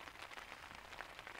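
Steady rain patters on a campsite in the wild, a dense even hiss with scattered brighter drops, fairly quiet and with no voices.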